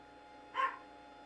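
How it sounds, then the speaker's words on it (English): A single short dog bark, faint and somewhat distant, rising briefly over a quiet low hum. "I know you heard the puppo."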